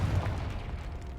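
A Confringo fire spell blasts in Hogwarts Legacy on PS5, a single deep booming burst that rumbles loudly at the start and fades out over about a second, with no talk over it.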